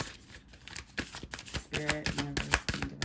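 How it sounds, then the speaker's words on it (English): A deck of tarot cards is shuffled close up, rapid riffling clicks and flutters building into a quick dense burst before stopping. "All right, shuffle felt good."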